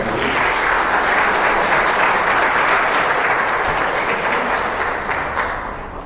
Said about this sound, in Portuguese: Gostaria de convidar ele para sentar aqui na frente com uma salva de palmas